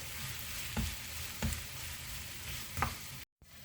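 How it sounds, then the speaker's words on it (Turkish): Turkish sucuk sausage and peppers sauté in a pan with a steady hiss of frying. Three distinct stirring scrapes land about every second, then there is a brief cut to silence near the end. "Biberlerimiz kavrulduktan sonra sucuklarımızı ekliyoruz. Onlar da kavrulacak biraz."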